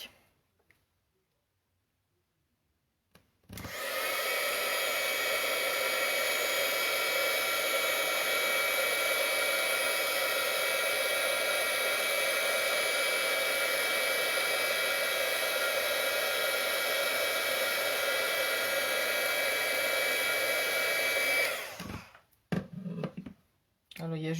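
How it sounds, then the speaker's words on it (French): Heat gun blowing on a handmade card, a steady loud whooshing roar that starts abruptly, holds for about eighteen seconds and then cuts off, followed by a few light handling clicks. "on vient chauffer avec notre pistolet"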